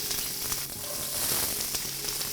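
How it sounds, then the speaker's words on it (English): Chopped onions and celery hitting a hot pan and sizzling, a loud dense hiss that holds steady over a couple of seconds, with no speech. "Okay, so I'm going to go in now with my onions. Nice hot pan, okay? And some celery."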